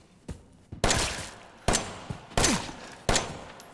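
A shotgun fires in Resident Evil 7, with four loud, close blasts spaced under a second apart, each one fading into a short echoing tail.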